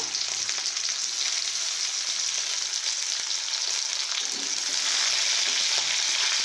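Ginger, garlic and green chili fry in white oil with a continuous, bright sizzle, close and steady, with occasional soft scrapes of stirring and no talking.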